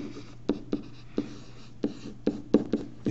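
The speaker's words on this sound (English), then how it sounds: "So I'll write that down." Pen or marker writing a math equation by hand, a series of short scratchy strokes and taps with small pauses between them, close and quiet with no talking.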